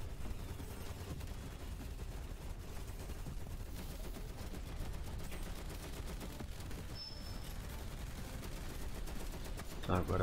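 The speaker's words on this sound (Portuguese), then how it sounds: "Tá, eu tenho que dar um tiro de sniper ali naquele negócio" Heavy gunfire and explosive combat noise from the shooter game Evolution 2: Battle for Utopia, rattling steadily throughout and ending in a sharper loud shot, with someone speaking briefly amid the fire.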